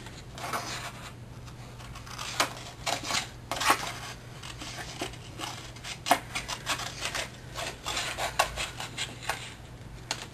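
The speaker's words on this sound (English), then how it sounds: "I'm just going to trim around each of the words separate" Scissors snip around stamped words on orange cardstock for a Halloween card, producing scattered close, light clicks and crisp cuts at an irregular rhythm over a faint steady hum.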